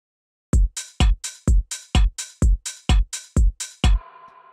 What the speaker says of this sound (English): So next thing I'll show you are the drums, which sound like this on their own.